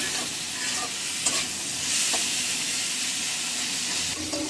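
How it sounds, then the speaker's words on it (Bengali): Salt dry-roasting in a pan in a village home kitchen gives a steady, close hiss with a few soft clinks of stirring, and no one speaks. "ভেজে নিই"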